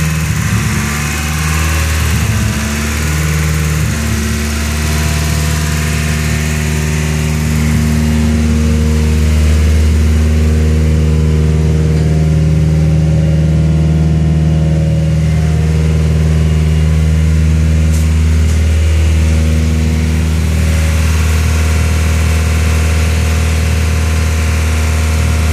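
A right-hand-drive Nissan Silvia engine runs loud and close after its first start-up, a steady, throbbing idle with slight rev fluctuations throughout.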